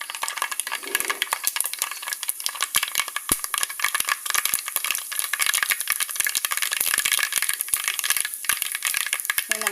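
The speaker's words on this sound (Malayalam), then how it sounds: "കടുകൊക്കെ അങ്ങനെ പൊട്ടി വരുന്നുണ്ട്." Mustard seeds pop in hot oil in a pan, a dense, continuous crackle of sharp little bursts close by, with no talking.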